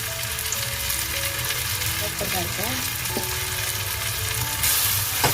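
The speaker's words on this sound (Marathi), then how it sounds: "मस्त परतून घेते आणि हा वाटप केलेला मसाला पण बघा कसा मस्त भाजला" Ground masala paste of coconut, onion and home-made spice powders sautéing in a pan, a steady close sizzle with a few scrapes of stirring and no voices.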